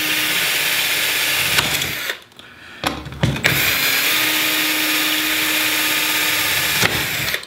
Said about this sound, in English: And I'm going to just drill 2 holes through here.